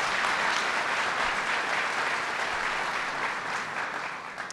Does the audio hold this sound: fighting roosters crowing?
no